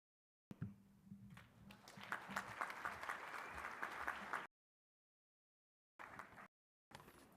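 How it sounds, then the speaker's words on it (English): Graduation ceremony audience applauding in a hall, several seconds of close, sustained clapping that cuts off, followed by two brief further bursts after silence. "another big round of applause"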